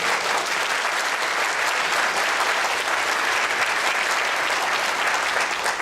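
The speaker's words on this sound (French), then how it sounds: "on peut les applaudir un peu plus fort quand même" Concert audience applauding, a steady, dense wash of clapping from a sizable crowd that holds at an even level throughout without a break.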